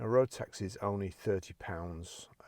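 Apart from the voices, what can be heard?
No everyday noises stand out.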